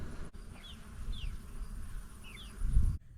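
Honey bees hum and buzz around a hive fitted with a robbing screen, a steady low drone with a few brief, closer fly-bys passing through, no talking.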